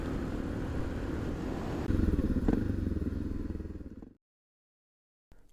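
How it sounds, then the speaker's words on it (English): Adventure motorcycle ridden slowly across a Simpson Desert clay pan, a close, steady engine drone with a slight rise in throttle midway, then cutting out abruptly to silence before a brief return. "gave local farmer Harry a chance to test out his new adventure machine"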